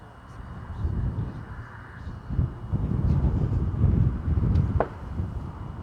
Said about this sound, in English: That wind, very strong right now.